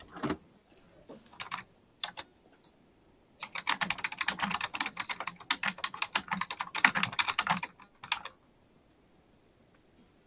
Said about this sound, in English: is that your keyboard that's really loud?